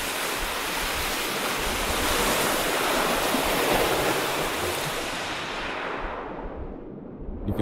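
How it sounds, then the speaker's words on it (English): Ocean waves breaking on a beach in Maui, a loud continuous roar of surf and wash that swells and then fades out toward the end. "I recorded the ocean at this really cool beach"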